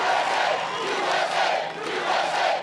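A large crowd at a Trump rally in Ohio roars and cheers loudly and continuously, a dense wall of voices swelling and dipping slightly throughout.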